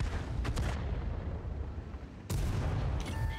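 Tank gun fire in a World of Tanks–style game, a medium tank shooting an E-25 from behind: a short burst early, then a sharp, loud blast near the end over a steady rumble of engine noise.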